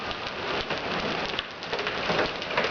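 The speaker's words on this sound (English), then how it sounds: "Oh, that car is just covered in hail." Hail pelts down hard during a storm at the Grand Canyon, drumming densely and steadily on a car's surfaces close by, with no voices.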